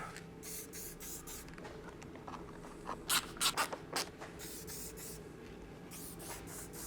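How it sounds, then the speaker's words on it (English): Dinitrol rust-protection spray goes onto small BMW E31 850 parts during a restoration. A handful of short, quiet hissing bursts sound close by against a faint background. "So these stupid little things tend to rust pretty quickly, so we shall spritz some Dinitrol on them."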